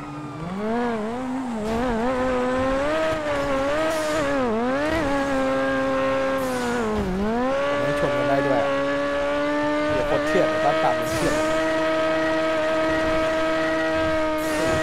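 Cars and a police car race in the video game GTA V, with a loud, steady engine drone that rises and falls in pitch as the vehicles speed up and slow down throughout.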